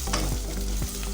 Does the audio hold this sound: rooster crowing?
no